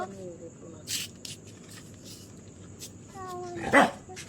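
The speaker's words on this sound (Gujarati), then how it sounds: "કૂતરું બોલ્યું" A dog barks a few times at a distance, short sharp yaps scattered over quiet background noise, with one louder burst near the end.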